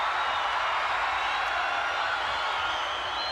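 A capacity wrestling arena crowd roars in a steady, loud wash of cheering and clapping that holds without pause throughout.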